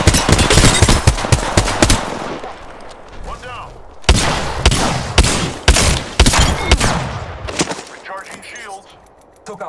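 Loud bursts of rapid automatic gunfire in the video game Apex Legends, coming in clustered volleys with brief lulls between them, close and harsh, fading toward the end.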